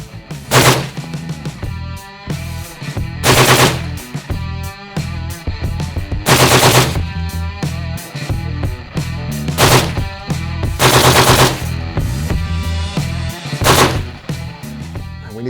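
A 6.8mm NGSW rifle fires full-auto bursts at a steel target out at long range: five or six loud, sharp bursts of rapid shots separated by short pauses, each ringing over an outdoor range with no talk.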